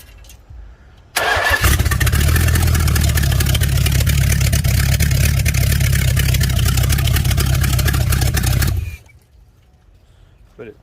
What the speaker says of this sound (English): the motor runs, and runs really well.